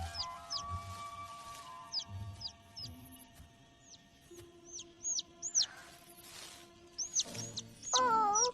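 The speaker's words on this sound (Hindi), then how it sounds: "एक नन्हा सा पंछी।" Small bird in a cartoon giving a series of high, quick chirps and tweets, close and clear, over soft background music and scattered light effects.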